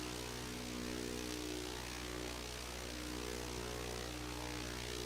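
Chinook helicopter in flight in Microsoft Flight Simulator 2024 on PS5, a steady, faint rotor and engine drone with a constant low hum that holds unchanged throughout.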